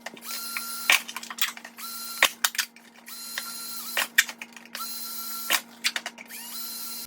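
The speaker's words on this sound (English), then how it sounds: "We're gonna poke some holes in the bottom" A drill bores small holes through the bottom of a red plastic solo cup, giving repeated short sharp whirring bursts and clicks over a steady motor hum.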